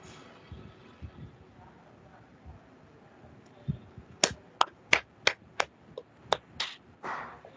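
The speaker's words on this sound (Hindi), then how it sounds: "सभी बच्चे तालियां बजा करके आदित्य चतुर्वेदी को प्रोत्साहित करें" Students at a camp closing ceremony clap for a classmate receiving a certificate. Quiet rustling leads into a run of about eight sharp, evenly spaced claps, close and crisp, with a faint voice beneath.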